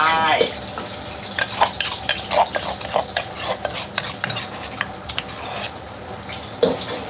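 Thai curry paste fries in hot oil as a spoon stirs and scrapes the pan in irregular strokes over a steady sizzle, close up, with a voice briefly audible.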